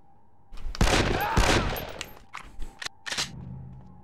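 Assault rifle and pistol gunfire in 24: The Game crackles in a dense, loud burst of rapid shots, fades, then returns as several shorter bursts and single cracks, with no talking.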